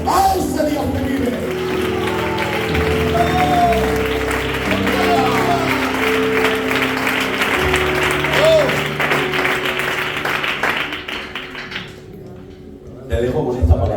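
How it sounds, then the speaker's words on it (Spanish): A church congregation in Granada claps steadily for about twelve seconds, with music underneath, before the applause thins out and falls quiet. "denle un aplauso a ese Dios que vive"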